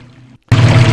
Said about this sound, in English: We're going to turn down the water noises.